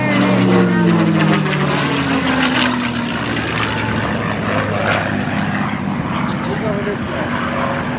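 A P-51 Mustang propeller fighter at the Westmoreland County Airshow passes with a loud, continuous engine roar whose pitch glides downward as it goes by. An announcer talks over the sound.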